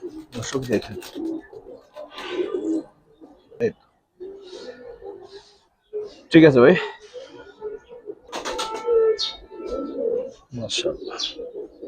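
Giribaz and coloured pigeons on a pigeon farm coo softly and intermittently, with a few chirps and clatters, under a man's speech nearby.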